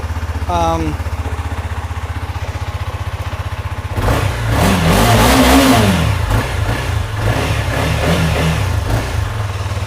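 A Honda CBR300R motorcycle engine fires up after sitting a few weeks in cold weather, then runs loud and close with a steady idle and a brief rev swell, after a chirpy sound at the start.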